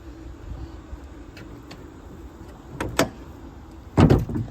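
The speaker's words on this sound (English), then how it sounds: "you can listen to that clunk from the hood" Two heavy metallic clunks from a 2003 Chevrolet Silverado pickup's hood being shut, the second louder, over quiet outdoor background.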